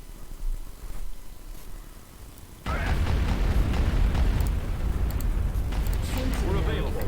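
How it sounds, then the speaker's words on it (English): Artillery bombardment in the Empire at War strategy game: after a quieter stretch, a sudden heavy wave of rumbling explosions and booms erupts and continues densely, with faint voice chatter beneath. "Bombardment incoming."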